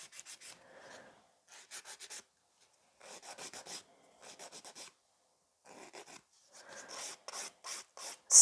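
An acrylic coffin-shaped nail is filed to taper it, with quick, close rasping strokes in short bursts separated by brief pauses, speeding up toward the end.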